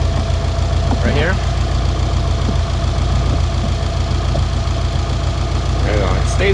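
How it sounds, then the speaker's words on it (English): A Subaru WRX with an STI engine swap, making about 500 horsepower at 26 psi of boost, idles loudly and steadily up close with a deep, constant rumble, while voices talk briefly under the engine. "I'm gonna let it idle another minute or so, just so it can correct itself"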